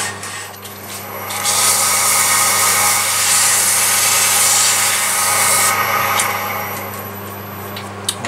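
Sanding a turned wooden piece spinning on a lathe, a steady close rasping rub that swells louder through the middle and eases off toward the end, with no talking.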